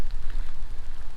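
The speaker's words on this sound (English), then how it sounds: "literally it just started raining" Rain beginning to fall outdoors, a steady close patter of drops on surfaces with a low rumbling wash beneath, continuous and fairly loud, no voices.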